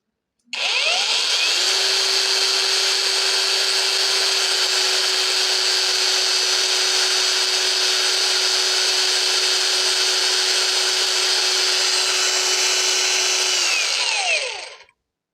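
A Sunc cordless angle grinder runs at speed setting 3, a loud, steady high-pitched whine that spins up, holds evenly for about fourteen seconds, then winds down to silence.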